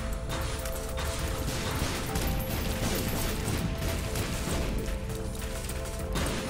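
Rocket explosions in The Binding of Isaac come in dense, overlapping bursts of crashes and booms, a busy, continuous clatter of game effects at low, steady loudness.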